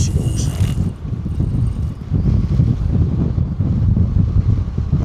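Strong easterly wind gusting on a UK sea shore during evening fishing, a steady loud rumble buffeting close against the microphone throughout, with a brief higher hiss at the start.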